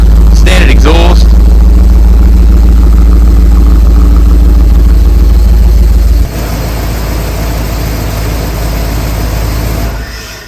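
A Holden HSV VP Senator engine on its first start after four years idles steadily through the standard exhaust with a deep, constant rumble, a brief higher whine near the start, then the tone drops slightly and carries on evenly.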